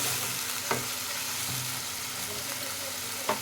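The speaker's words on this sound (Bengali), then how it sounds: "ভালো করে পেঁয়াজটাকে ভেজে নেব আমি" Onion paste and chopped green chili frying in a pan, a soft continuous sizzle with a couple of brief clacks of stirring. Quiet and close, with no talk.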